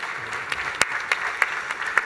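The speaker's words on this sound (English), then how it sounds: "Again, applause to our guests on the stage." Audience applause for guests on stage at an investment forum, a steady patter of many hands with a few sharper claps standing out, fairly close and unbroken for the whole stretch.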